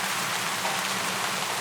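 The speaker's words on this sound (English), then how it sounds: "the rain dripping steadily from the edges of the tarp" Rain falling steadily in a war camp and dripping from the edges of a large tarp strung between two trees, an even, unbroken close hiss with no pauses.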